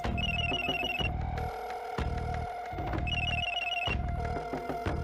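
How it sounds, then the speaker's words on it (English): A telephone rings with a repeating electronic ringtone, bursts of ringing separated by short pauses, loud and close with no voices over it. "Then she heard a ringing on the other line."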